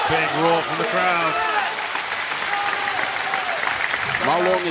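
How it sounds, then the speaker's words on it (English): A table tennis arena crowd at a professional match roars and applauds loudly and continuously, with harmonic voices of commentary-like talk rising over the broad crowd noise at the start and end. "Big roar from the crowd."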